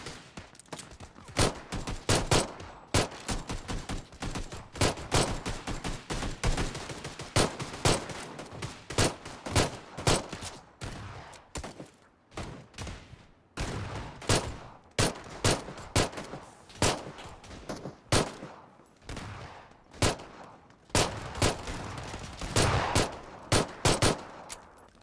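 Rapid, near-continuous gunfire from the PUBG pre-game lobby, with dense overlapping shots and bursts from several weapons, loud and close, running the whole stretch with only short gaps.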